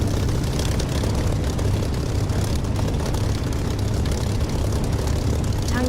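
An aircraft takes off in the DCS flight simulator game, its engine and propeller giving a loud, constant low roar and broadband rush that hold steady throughout.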